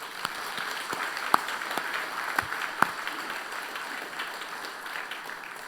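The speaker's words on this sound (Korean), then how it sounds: "장로님들 위에서 한번 박수 한번 쳐드립시다" Church congregation applauding elders and men's and women's groups during a Sunday service, a soft, distant wash of many hands clapping with a few sharper nearby claps standing out.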